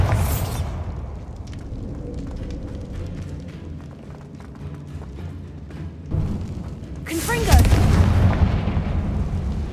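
Bombarda blasting spell from the video game Hogwarts Legacy, a loud booming explosion at the start, a rumbling stretch of crackling debris, then a second heavy blast near the end.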